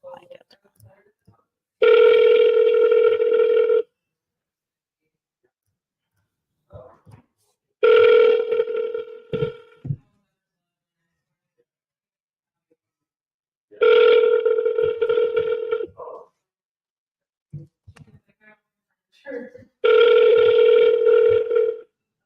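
An outgoing phone call rings unanswered: four long ringback tones spaced about six seconds apart, each lasting roughly two seconds, with brief murmured voices in the quiet gaps between rings.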